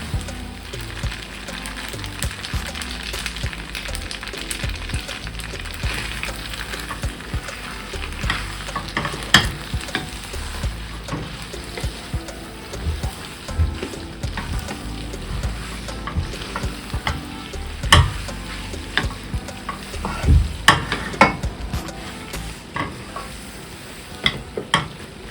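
Spaghetti with cream is stirred in a pan, a continuous close sizzle with wet scraping and sharp utensil knocks on the pan, no talking.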